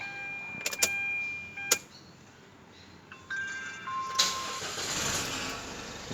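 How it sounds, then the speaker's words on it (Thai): A 2020 Isuzu D-Max Z in neutral with the handbrake pulled: a few clicks and electronic chimes, then the starter cranks briefly and the engine catches into a steady idle, heard close up. "เดี๋ยวผมจะลองสตาร์ทแบบ ที่เกียร์ธรรมดาก่อนนะครับ"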